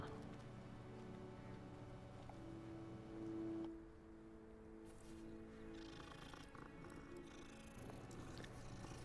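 A cat purrs steadily while being petted in Hogwarts Legacy, a soft continuous rumble under faint background game ambience, with a brief brighter tone partway through.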